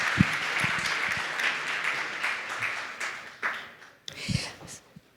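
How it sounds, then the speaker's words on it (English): An audience at a sustainability conference session claps in a dense burst that tapers off after a few seconds, with a few scattered final claps near the end. "Can we get another round of applause"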